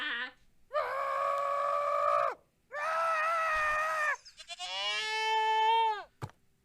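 Goats screaming in three long, loud, strained bleats, each held for over a second with brief gaps, the last rising and wavering before a sharp click at the end.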